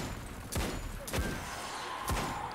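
Gunfire in the video game Destiny 2, three sharp shots spaced roughly half a second to a second apart over a steady low background hum.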